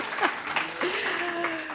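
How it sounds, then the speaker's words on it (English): Scattered audience applause breaks out in a university hall during opening remarks at a summit, brief and moderately loud, mixed with a voice talking over it. "And there's applause for New York."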